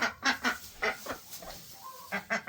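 A duck at a pond giving a run of short, nasal quacks in uneven bursts, close and moderately loud, with quiet outdoor background.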